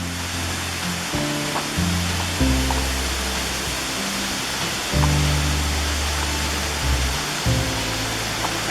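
Water rushes steadily over the Bog River Flow Dam, the lower dam below Hitchings Pond in the Adirondacks, a broad, constant roar with a few soft low thumps and rumbles mixed in.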